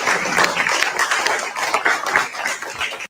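Applause from an audience at a live show, with dense, sustained clapping and scattered sharp claps that swell and ebb across the whole stretch, fairly close and loud.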